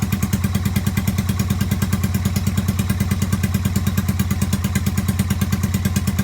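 A Yamaha SRV250 motorcycle engine runs on choke, close and loud, with a fast, even thumping beat that holds steady throughout.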